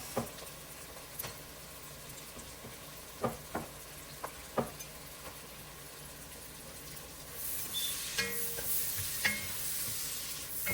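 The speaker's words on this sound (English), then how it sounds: "And then we're going to just saute this for a couple of minutes" Carrots sautéing in a pot for broccoli cheddar soup, a continuous close sizzle with occasional sharp stirring scrapes and clinks.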